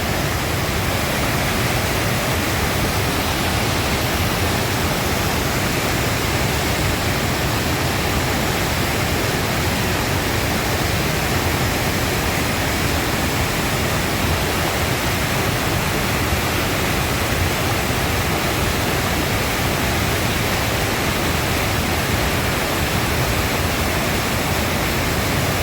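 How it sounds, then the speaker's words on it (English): Colwith Force, a waterfall in Little Langdale, Cumbria, roars as a steady, dense rush of falling water nearby, unbroken throughout with no voices. "The main waterfall just to our right"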